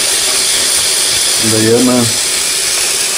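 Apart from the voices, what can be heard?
pouring water into an empty pot for soup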